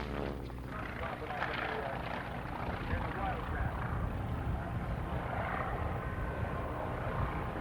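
A WWII warbird flies at a 1989 air show in Fort Lauderdale, its propeller engine a steady, distant drone that holds for several seconds, with people talking over it.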